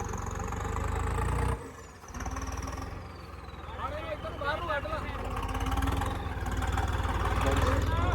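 A steady low engine idles and rumbles throughout, with a brief dip in the middle, while people talk over it.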